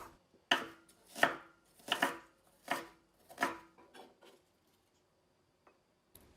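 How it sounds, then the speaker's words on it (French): A knife finely chops dill, parsley and shallot on a board for tuna tartare, giving five crisp bursts of rapid taps about a second apart, then a few faint taps and a final sharp knock. "Hachez finement les herbes. Puis l'échalote."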